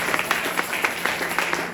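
A church congregation claps together in praise of the Lord during a French-language worship service, a steady patter of rhythmic hand claps with regular swells, fairly close and continuous throughout.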